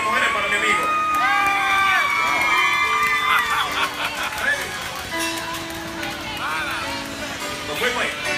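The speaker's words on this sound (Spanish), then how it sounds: "Un aplauso a las mujeres para mi amigo." A lively crowd at a comedy show in a club cheers, whoops and shouts, voices overlapping in a steady noisy wash close at hand.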